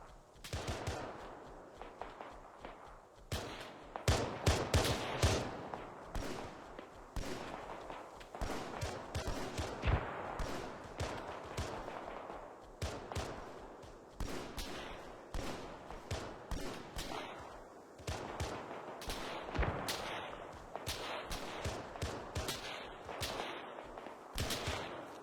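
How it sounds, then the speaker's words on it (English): Mounted guns on Warthog gun hogs firing in a Halo video game, continuous rapid bursts of gunfire with scattered heavier blasts, loud and close over a steady battle din, no clear talk. "Gun hogs opening up."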